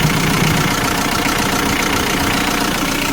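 A 2004 Hyundai Porter short-cab TCI diesel with a manual gearbox idles close by, giving a loud, steady rough clatter and rumble with no talk over it.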